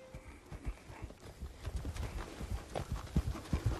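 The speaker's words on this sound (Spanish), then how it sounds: "Escucho las herraduras sobre las piedras" Iron horseshoes of ridden horses clop on stony ground along a mountain trail in Galicia, a steady scatter of sharp hoof strikes drawing gradually closer and growing louder.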